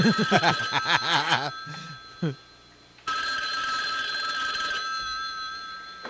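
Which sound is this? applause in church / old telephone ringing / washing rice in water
old telephone ringing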